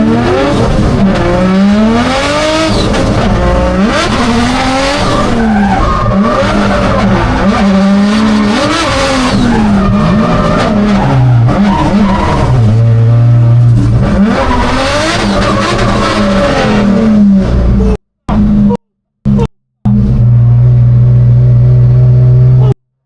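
Drift cars in a drift competition scream with high, revving engines and long tire squeals that rise and fall as they slide, loud and continuous before cutting to brief gaps and a final burst of engine noise.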